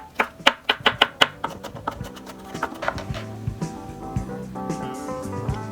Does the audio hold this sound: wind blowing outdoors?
no